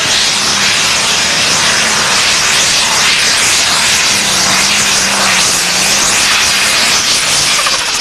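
A Pro Stock class pulling tractor at an NTPA Grand National tractor pull roars loudly and steadily, its engine a dense, unbroken blast with a low droning undertone that wavers in pitch throughout, and no voices over it.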